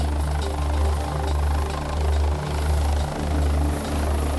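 A medical helicopter roars loud and steady, its rotor chop pulsing under a constant engine drone throughout, close and with no speech.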